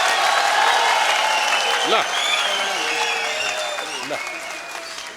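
Loud, dense applause from a crowd at a swearing-in ceremony, sustained across the whole span and fading slightly toward the end, with a voice speaking over it.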